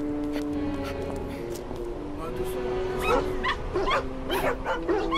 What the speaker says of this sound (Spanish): ¡Un chihuahua!